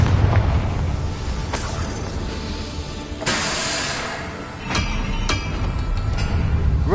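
A Confringo fire spell goes off in Hogwarts Legacy, with broad booming blasts and hissing bursts over a dense, continuous game soundscape, several sharp impacts landing through the stretch.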